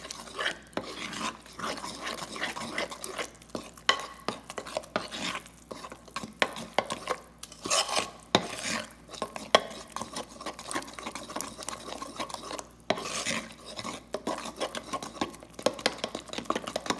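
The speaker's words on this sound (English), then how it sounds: "All you do, stir it up, and your pancakes will be ready." Pancake batter being stirred in a bowl, a steady scraping and swishing that continues throughout with uneven strokes, close and fairly soft.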